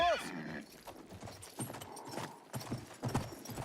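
A horse in a video game whinnies loudly at the start, then clip-clop hooves patter on, with other game sounds mixed in.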